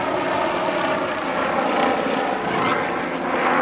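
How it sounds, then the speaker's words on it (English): Steady, continuous rotor and engine drone of a news helicopter passing overhead in Mount Airy, North Carolina, loud and unbroken throughout. "It seems to be a news helicopter."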